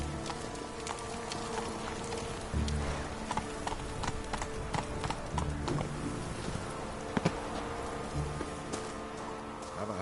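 The horse Roach gallops in The Witcher 3: Wild Hunt, its hooves clip-clopping in a steady, fast rhythm throughout, moderately loud against ambient game sound.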